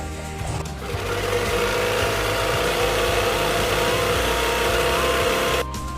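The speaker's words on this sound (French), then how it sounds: "Mon montage, ça va être tout simplement de les unifier, de les coudre ensemble" Sewing machine stitching the hood pieces of a Little Red Riding Hood cape together, a loud, steady mechanical whir that starts after a short pause, runs for about five seconds, then cuts off, close by and without speech.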